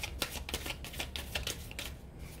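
Tarot cards being shuffled close up, with a quick run of crisp riffling clicks and flutters lasting a couple of seconds.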